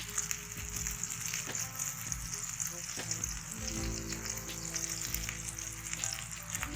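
A chicken cheese sandwich cooks in a pan on the stove without a sandwich maker, giving a continuous low sizzle with a few faint clicks and scrapes along the way.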